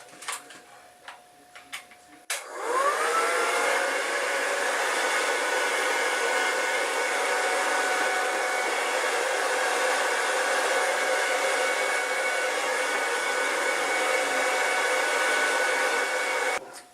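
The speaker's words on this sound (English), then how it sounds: "Sometimes I like to use a hairdryer to dry my face off." A hair dryer switches on after a couple of seconds of quiet clicking and then blows with a steady, loud, whirring roar until the end.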